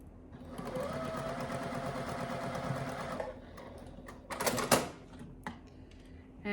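A sewing machine stitches quilt background pieces together in a steady, fast mechanical whir that runs for about three seconds, then stops, followed by a few brief clicks and handling noises close by.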